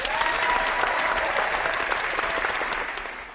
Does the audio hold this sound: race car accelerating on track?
no